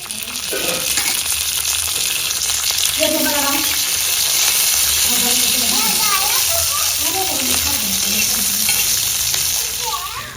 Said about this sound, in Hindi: इन सारी चीज़ों को तेल में थोड़ा सा भून लेते हैं